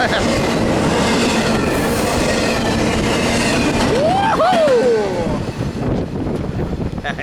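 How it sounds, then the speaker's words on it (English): A loud, steady rumble of a passing freight train with rhythmic wheel clatter and a brief high metallic squeal near the end, then fading slightly. "There goes that freight north to Italy."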